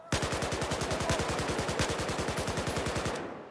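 Automatic gunfire from a weapon in the first-person shooter Battlefield 4, one loud sustained burst of rapid evenly spaced shots lasting about three seconds before it cuts off abruptly.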